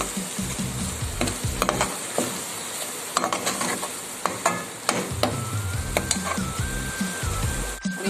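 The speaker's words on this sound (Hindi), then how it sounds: "अब इसको अच्छे से मिक्स कर लेते हैं।" Spices, including turmeric, red chillies and crushed coriander, fry in oil for a cauliflower curry while a spoon stirs with repeated scraping strokes, under a steady close sizzle and occasional clatter against the pan.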